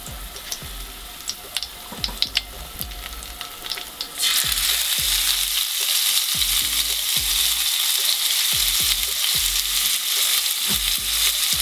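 A few quiet clinks and taps, then a loud, steady sizzle bursts in as a halved head of garlic hits hot sunflower oil and keeps frying.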